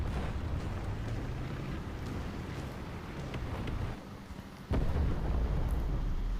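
A tank's ammunition detonating in War Thunder Mobile: a deep, rumbling blast cuts in suddenly after a brief lull, then a heavy roar carries on at full loudness over the low engine drone.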